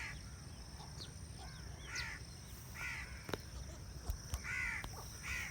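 Crows caw repeatedly at sunrise in Pakistan, about six harsh calls spaced a second or so apart at moderate distance, over a steady outdoor hiss with a few sharp clicks.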